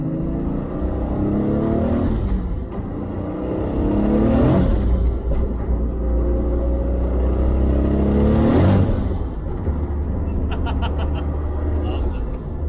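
A Nissan R32 Skyline pulls in second gear, its engine note rising through two loud revving sweeps with gear changes, heard from inside the car under steady talk.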